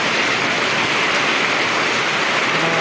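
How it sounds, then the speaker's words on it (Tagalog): Heavy, steady rushing of water, a dense roar of pouring rain and a fast-flowing drainage canal in a residential neighborhood, loud and close without pause. "ulan na naman, ayan. Kita nyo ang kanal namin"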